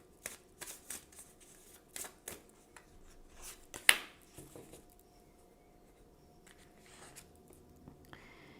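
Tarot cards being shuffled and drawn for a love reading, a run of soft papery riffles and flicks with one sharper snap midway, quiet and close with no talking.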